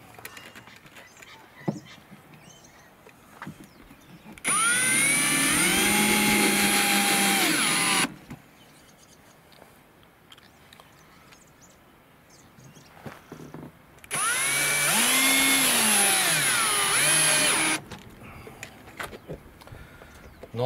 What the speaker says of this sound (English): So now I'm going to screw this onto the timber, and then I'll just screw the timber into there